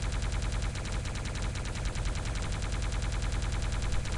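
Rapid automatic plasma gun fire in a video game as a player jumps and climbs a wall, a dense, unbroken stream of loud, fast repeating shots lasting throughout with no talk.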